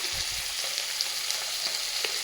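Fish fries in a pan of hot oil with a steady, close sizzle and crackle that holds evenly throughout, with no voices.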